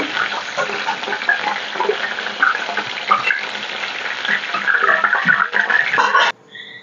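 Mushrooms frying in hot oil give a steady, close crackling sizzle with scraping stir noises mixed in, ending abruptly in a quieter tail.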